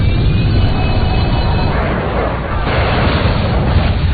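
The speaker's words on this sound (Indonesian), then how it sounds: "menyebabkan pesawat tempur itu meledak" A heavy, continuous explosive roar with deep rumbling and crackling that stays loud throughout, as a Nazi fighter plane blows up in the air.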